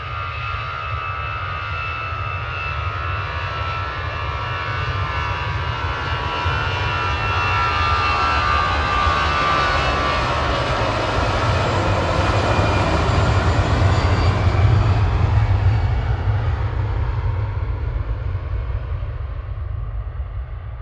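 Boeing 737-300 jet engines roar steadily at Manchester Airport in the evening, a sustained loud rumble with a broad whine that swells toward the middle and slowly fades, heard alone without voices.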